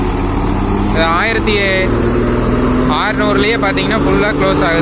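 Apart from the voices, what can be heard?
farm waste shredder driven by Solis Yanmar 5515 tractor PTO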